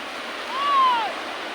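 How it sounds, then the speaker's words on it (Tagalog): Surf at Santa Catalina Beach washes in as a steady, fairly soft rush of waves, swelling briefly in the middle of the clip, with a faint whistle-like tone over it. "Ito po ay ang Santa Catalina Beach."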